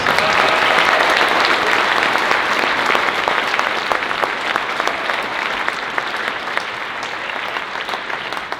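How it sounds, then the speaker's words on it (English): Audience applause for a middle school select band at a concert fills the room, a dense, continuous wash of clapping that stays loud and even for nearly nine seconds, with no talk. "Let's give them another round of applause."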